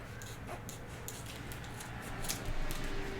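Scissors trim the edges and corners of a non-fraying fabric pouch, a series of quick, soft snips close by over a low steady background hum.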